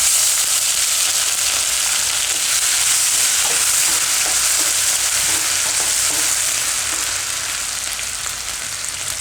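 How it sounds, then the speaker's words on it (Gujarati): Ginger, green chili and garlic sizzle steadily in hot oil for aloo matar paneer, a continuous close frying hiss with faint stirring scrapes and no voices. "તો તેલ આપણું ગરમ થઈ ગયું છે, તો એમાં આપણે પહેલાં નાખીશું આદુ મરચાં ને લસણ।"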